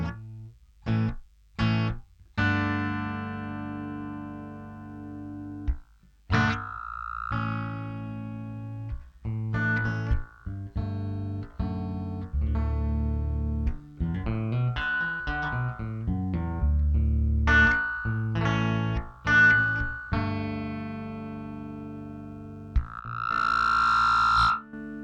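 A 41-year-old BOSS DM-3 analog delay pedal on guitar feeds back into oscillation, producing repeating tones, swelling and pitch-sliding echoes between sharp plucked notes, loud and close with brief silences.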